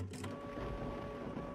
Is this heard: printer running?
yes